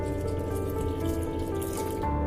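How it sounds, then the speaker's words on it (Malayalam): A cup of water is poured into a Kerala-style dry prawn and raw mango curry. It makes a steady, continuous splashing pour up close. "ഞാൻ ഇവിടെ 1 കപ്പ് വെള്ളം കൂടി ചേർത്ത് കൊടുക്കുന്നുണ്ട്."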